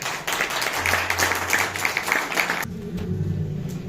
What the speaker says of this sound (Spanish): Fuerte el aplauso, por favor.